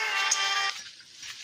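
A phone ringtone plays during a cattle birth case, a short bright electronic tone that sounds for about half a second and then fades under quiet background.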